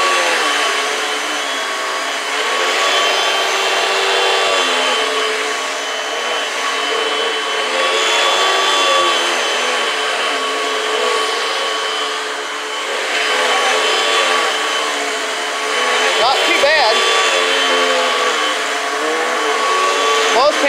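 A 2004 Panasonic upright vacuum cleaner runs continuously up close, its loud steady whine and rushing airflow swelling slightly in pitch and volume as it moves, with a few brief knocks midway.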